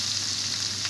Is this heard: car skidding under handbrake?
no